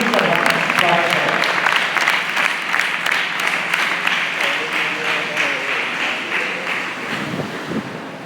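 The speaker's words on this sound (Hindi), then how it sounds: "तो आइए तालियों के साथ जब ये दोनों मिलकर हम स्वागत करें।" A church congregation applauding to welcome two people, sustained dense clapping with a wind-like wash that gradually fades toward the end.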